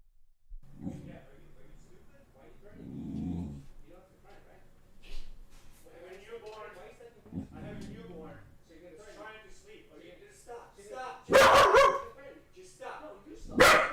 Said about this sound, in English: when the dog barks